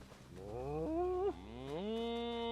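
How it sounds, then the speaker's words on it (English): A cow in the video game Elder Scrolls Online lets out a long, loud moo close by, rising and then rolling into a second sustained bellow, with steady game ambience behind and no speech. "There's 1 cow."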